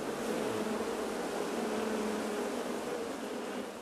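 Africanized scutellata bees swarming in an attack at an apiary make a continuous, thick buzzing drone that stays steady and fairly loud for nearly four seconds, with no voices.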